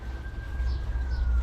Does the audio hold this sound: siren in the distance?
yes